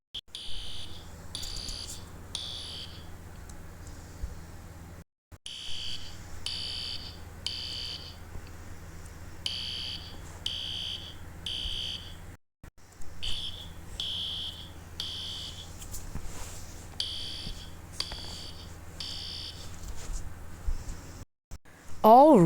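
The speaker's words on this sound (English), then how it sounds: "Kids, the fire alarm has started." A school fire alarm sounding during a drill, a repeating high electronic beep pattern in regular bursts with brief pauses, steady and moderately loud in an indoor hallway with faint background voices.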